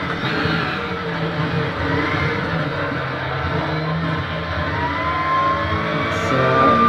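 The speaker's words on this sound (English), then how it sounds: "This is a little bit of a lockup from my Lada." A Lada touring car locks a wheel under braking in the Raceroom racing game on the Hungaroring, its steady engine drone joined by a thin, high tire squeal late in the run, with other cars nearby.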